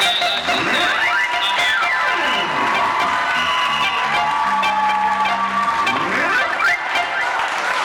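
A youth church gathering cheering and applauding to welcome a speaker, a loud, continuous crowd roar of clapping and whoops with voices mixed in.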